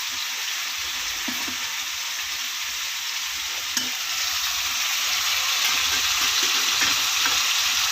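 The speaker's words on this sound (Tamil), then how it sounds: "இங்கே தக்காளி நல்லா வதங்கிட்டு இருக்கு பாருங்க." Tomatoes sauté in a pan for tomato sambar with a steady, loud sizzle that runs the whole time, and faint stirring scrapes come through now and then.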